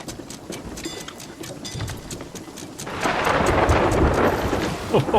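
A thunderstorm at sea in the pirate video game Sea of Thieves, with steady rain hiss and low rumbling that swells louder and heavier halfway through, thunder booming beneath the downpour.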